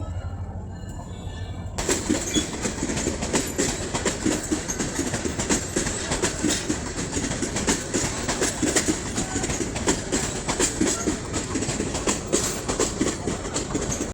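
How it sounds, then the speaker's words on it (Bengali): A train runs along a railway line beside a house, its wagons rolling past with steady clickety-clack wheel rhythm after a quiet opening, loud and close throughout with a faint squeal. "আমাদের বাসার পাশে রেল লাইন তারপরও আপনাদেরকে আমি একদিনও ট্রেনের শব্দ শোনাতে পারি না নিন আজকে শুনে নিন"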